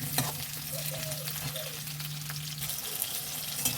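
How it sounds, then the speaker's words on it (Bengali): Pieces of pointed gourd fry in oil in a wok over a raised gas flame, a faint, steady sizzle with light crackles and occasional stirring. "পটলগুলো ভাজা হয়ে গেল"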